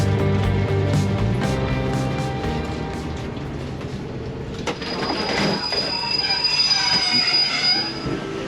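A State Railway of Thailand train on the Bangkok–Chiang Mai northern line, wheels squealing loudly and steadily on the rails, with rumbling carriages and rising screech throughout, no voices.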